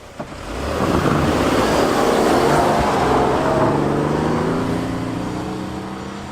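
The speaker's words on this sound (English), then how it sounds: "that was actually fairly impressive acceleration in normal mode from the Tundra" A Toyota Tundra pickup accelerates hard in normal mode on snow, its engine rising in a loud, sustained roar that swells quickly and then eases off slightly as the run goes on.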